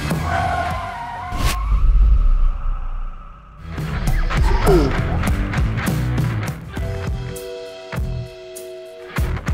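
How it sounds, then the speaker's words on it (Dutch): Car braking hard and skidding, with tire screech and engine noise over a busy mix that includes music-like tones and voices, the screeching rising in the middle and continuing steadily to the end. "2 handjes aan het stuur. En remmen maar."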